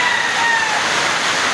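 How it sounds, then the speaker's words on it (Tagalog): Water running and dripping from a leaking galvanized iron roof gutter pierced by a nail at a newly built parking area, a steady close wash of flowing water without talk. "pinako sa may kanal ng yero kaya tumutulo"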